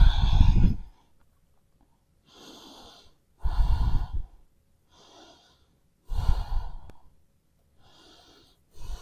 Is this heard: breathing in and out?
yes